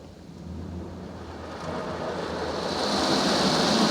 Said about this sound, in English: right now we're on our spot-free rinse